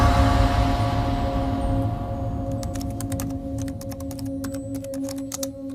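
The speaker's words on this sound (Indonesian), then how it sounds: "aku pun mulai mengetik pengalaman saudaraku ini di laptop" Quick, irregular taps of fingers typing on a laptop keyboard start partway through, close and crisp, over a loud steady hum and low rumble that fade slightly as the keystrokes continue.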